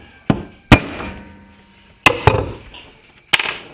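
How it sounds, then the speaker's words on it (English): A hammer tapping a metal center punch to mark a pilot hole for a homemade bladed jig: four sharp, ringing metallic strikes spaced irregularly, close and loud, with short decays. "put it right in the center of your marks, and then tap it."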